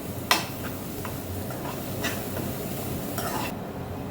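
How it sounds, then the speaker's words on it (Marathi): A vegetable filling with red chili powder and garam masala is stirred in a pan for veg frankie, giving a steady low sizzle with a few sharp spoon scrapes and taps close by, no voices. "त्याच्यानंतर गरम मसाला. हे चांगलं मिक्स करून घ्यायचं."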